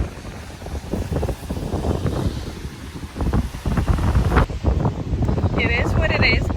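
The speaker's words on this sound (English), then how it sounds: "it's very windy and the weather is not the best." Strong wind buffets the microphone on a bridge in rainy Boston weather, a steady loud roar with gusts rising toward the end, and a person talks over it.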